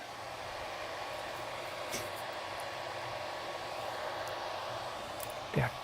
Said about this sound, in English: this printer is loud.